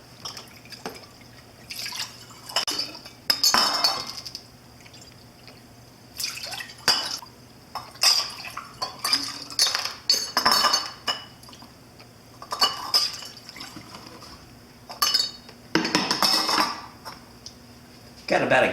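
Glass jars clink and tap repeatedly while kombucha is mixed with cranberry juice, scattered bright knocks and chinks with some dripping liquid, close by and fairly steady, no talking.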